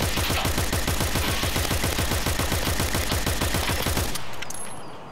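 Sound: suppressive gunfire in Escape From Tarkov video game

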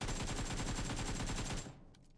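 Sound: gunfire in a video game

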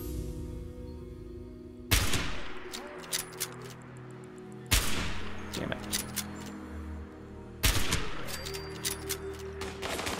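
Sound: gunfire from the video game Fallout 76

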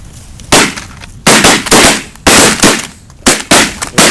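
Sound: shotgun shot at a snow goose while hunting

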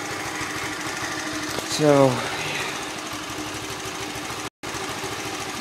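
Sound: 1981 Honda C70 Passport motorcycle engine idling

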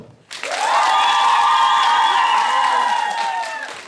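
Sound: participants applauding the audience

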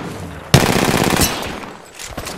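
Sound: gunfire in Apex Legends video game

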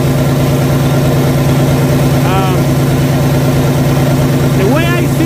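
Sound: PACCAR MX13 truck engine running

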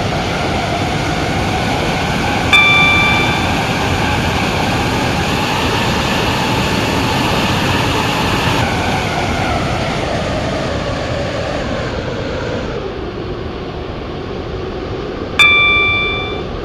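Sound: Class 143 Pacer train running on the Waterline service

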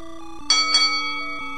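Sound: bell ringing

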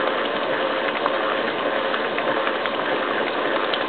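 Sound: mixer churning goat's milk into butter

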